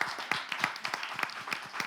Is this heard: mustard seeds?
no